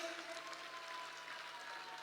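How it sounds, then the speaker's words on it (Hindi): Applause from a crowd in a stadium at a Congress party women's wing event in New Delhi welcomes the party president, heard as a faint, continuous patter of clapping for about two seconds. "जोरदार तालियों से नेताजी का स्वागत करिए।"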